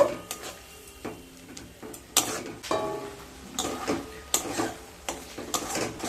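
Yellow mustard spice paste frying in a pan for egg curry while it is stirred: repeated close scrapes and metallic clinks of a utensil against the pan over a faint sizzle.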